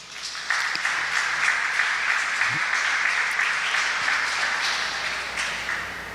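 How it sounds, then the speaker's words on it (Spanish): A church congregation applauds during a service, a steady, dense wash of clapping that starts abruptly and holds at even loudness before slowly tapering off. "Dale un aplauso al Señor."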